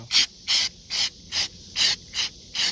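Rapid bursts from a spray paint can coating a burned car engine bay: seven short, even hisses in a steady rhythm, close and clear with brief silences between them and no talk.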